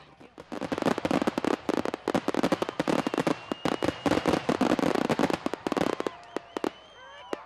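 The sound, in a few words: fireworks being set off at a launch site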